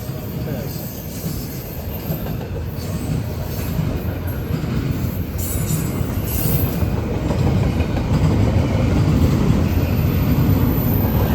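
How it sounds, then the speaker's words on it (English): Intermodal freight train on the Norfolk Southern line rolling past on steel rails, a steady dense rumble with rail noise and some wheel squeal that builds gradually louder through the pass, heard without any talking. "Get to see nothing but intermodal trains today."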